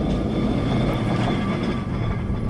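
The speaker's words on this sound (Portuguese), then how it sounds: "É o elétrico." A Lisbon elétrico tram passes close by, a steady loud rolling rumble with metallic wheel hum and faint squeal, continuous and without speech.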